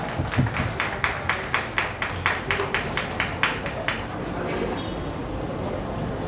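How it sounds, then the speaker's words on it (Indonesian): Rhythmic hand clapping for the three jury members at a Wonosobo performing-arts stage event, steady evenly spaced claps for about four seconds before fading into room ambience. "mari kita berikan tepuk tangan yang meriah untuk ketiga dewan juri kita"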